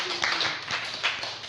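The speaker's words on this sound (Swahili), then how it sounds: "Pigia Yesu makofi." A congregation claps during a church service, heard as a short, uneven burst of many hands clapping at moderate loudness.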